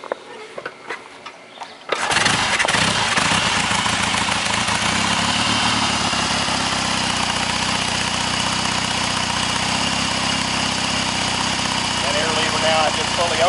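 A 1965 Royal Enfield Interceptor motorcycle engine catches after a quiet start and settles into a loud, steady idle close by, running continuously with a dense mechanical clatter.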